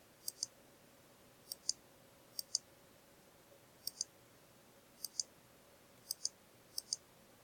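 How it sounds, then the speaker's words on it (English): Computer mouse button clicking in a quiet room, crisp sharp clicks arriving in paired bursts, each press followed by its release, repeated several times at close range with no talking. "Now I'm going to click and hold the mouse button"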